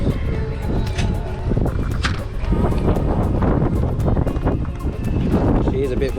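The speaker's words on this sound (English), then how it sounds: "She is a bit windy," Wind gusts across a coastal campsite at Coral Bay, roaring steadily into the microphone as low rumbling buffets, loud and close throughout.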